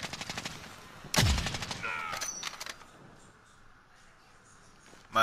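Sniper rifle shot in the Warzone video game: one sharp loud blast followed by a short burst of game effects and clicks, then quieter fading ambience.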